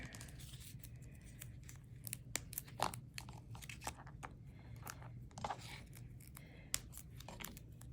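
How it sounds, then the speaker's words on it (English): A happy birthday sentiment gets stuck onto foam tape for a handmade card, giving faint, close crinkles, small tearing sounds and scattered crisp clicks from handling the tape and paper over a quiet background hum. "I'm going to put this happy birthday on some foam tape"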